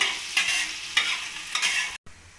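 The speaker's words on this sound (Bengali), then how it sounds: "আদাটাকে ভালোভাবে ভেজে নেব।" Ginger fries in a pan, browning as it cooks, with a steady close sizzle broken by three rhythmic stirring scrapes and a brief cut near the end; no voices.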